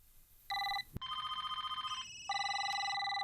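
A telephone rings in a film scene, a bright electronic trill heard in bursts with a short break and a sharp click between them, fairly clear against quiet background hiss.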